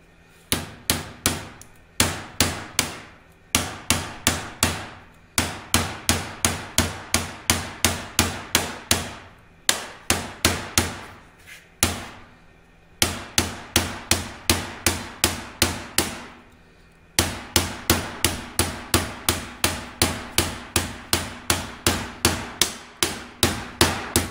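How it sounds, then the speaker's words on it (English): A hand hammer shapes a sheet-metal rear floorpan for a 1967 Kaiser Jeep M715. Steady, close, sharp metallic blows fall in quick runs of evenly spaced strikes, broken by brief pauses. "what we want to do is hit the metal flat and kind of in a glancing blow downhill"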